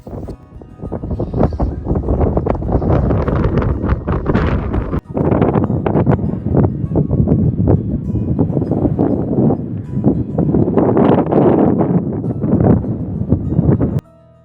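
Strong wind sweeps across a mountain meadow at Surya Kencana on Mount Gede Pangrango, roaring and buffeting the microphone in loud continuous gusts that ease briefly near the middle before surging again.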